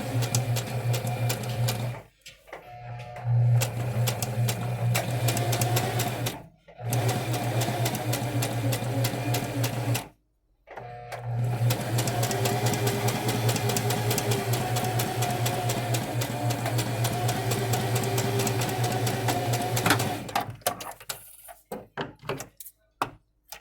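A domestic sewing machine runs at slow speed, stitching fabric around a curve with a steady mechanical whir. The motor hum continues for most of the clip, broken by a few short pauses where the stitching stops and restarts. No one speaks.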